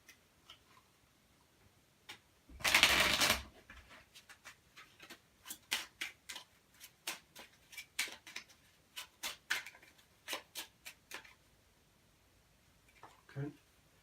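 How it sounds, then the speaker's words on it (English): A deck of Ticket to Ride cards gets riffle shuffled, with one dense burst of ruffling cards followed by a run of sharp, quiet taps and clicks as the cards are squared up, close by. "just doing the riffle shuffle so I keep things nice and okay"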